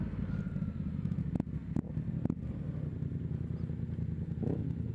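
A Yamaha MT07 motorcycle rolls to a stop, its engine a steady low rumble close to the microphone with wind buffeting, broken by a few sharp clatters near the middle.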